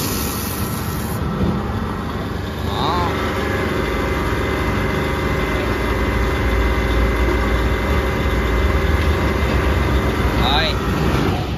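A truck engine idles steadily with a low, continuous rumble throughout, a tipper or cargo truck being washed, with faint background noises and brief chirps near the start and end.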